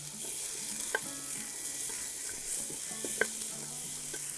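New potatoes sizzling steadily in a hot pan for a Cajun-style Louisiana boil, with soft scraping clinks as they are stirred and tossed now and then.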